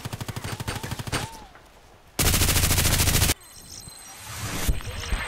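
Bursts of rapid RPK machine gun fire from the Contract Wars shooter game, first a quick rattling string, then a dense sustained volley, ending in scattered distant shots with a few electronic game tones.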